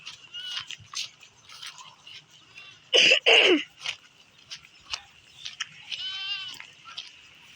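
A goat bleats loudly in a couple of strained, harsh calls, with softer wavering bleats and scattered farmyard noise around them.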